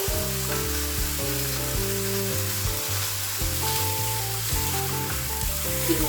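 Beef browns in a hot pan with a steady, dense sizzle that runs unbroken throughout, close and fairly loud, with a sustained musical tone playing underneath.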